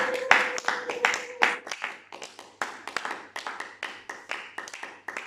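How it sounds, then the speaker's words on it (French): A church congregation clapping for the Lord, a rhythmic stretch of many hands clapping in a reverberant room, moderately loud and fairly steady, with a faint voice underneath. "Nous applaudissons le Seigneur."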